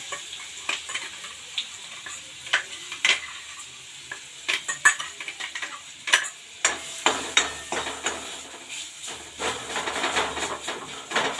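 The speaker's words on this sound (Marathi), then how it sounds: "आणि आता मी टाकते लसूण खोबऱ्याचं वाटण" Garlic-coconut paste sizzles in hot oil in a pan while being stirred for a Marathi aamti, with steady close frying hiss broken by repeated scraping stirs of the spoon and no talking.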